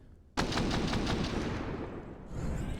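A sudden loud burst of automatic gunfire in a professional CS:GO match on the Mirage map, a rapid rattling volley lasting about two seconds before fading into softer game ambience.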